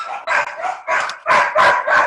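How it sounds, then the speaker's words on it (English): A happy puppy barks nearby: several quick, loud, high yips in a rapid, uneven series, heard alone. "Somebody's got a happy puppy."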